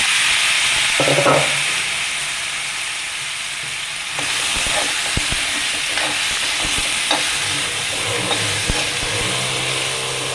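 Boiled Chinese potato (koorka) drops into a pan of browned onion, garlic and chilli and is stir-fried, with a loud steady sizzle, a burst as the pieces land and repeated scraping stir strokes, close and without talk.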